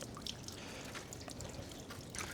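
Water drips and trickles down mountain rock, with faint, scattered splashes and a soft, continuous watery patter heard from close by with no talking.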